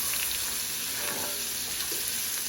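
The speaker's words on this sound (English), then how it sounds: "I'm going to grab a wooden spoon and just stir that all around." A wooden spoon stirs a chicken dish with bacon and a pinch of thyme in a hot pan, giving a dense, loud, continuous sizzle with soft stirring movements.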